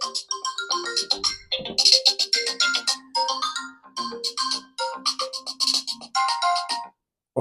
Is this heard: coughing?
no